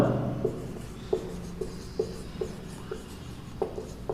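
Numbers written on a board during a maths lesson on factors: a series of short, fairly close taps and scratches at an uneven pace, with no voice.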